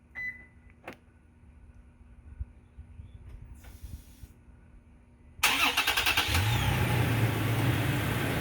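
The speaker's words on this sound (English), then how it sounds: "press lock 3 times to start the vehicle" A 2020 Toyota Tacoma is started by a remote starter. After a quiet stretch with a few faint clicks and beeps, the engine cranks and fires up loudly, then settles into a steady idle nearby.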